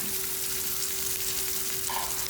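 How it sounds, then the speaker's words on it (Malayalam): Pieces of seer fish frying in hot coconut oil in a pan, a loud, continuous close-up sizzle that stays even and unbroken throughout, with no voices. "വെളിച്ചെണ്ണ ചൂടായിട്ടുണ്ട് പപ്പടം കാച്ചൽ കഴിഞ്ഞതാണ് അപ്പോൾ ആ രണ്ട് കഷ്ണം ആദ്യം വറുത്ത് വയ്ക്കുകയാണ്"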